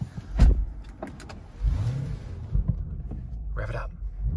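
A Lamborghini Urus SUV starting up, heard from the cabin: a low rumbling engine catch and settle into idle. A few clicks and a whirring motor come with it, under steady low mechanical noise.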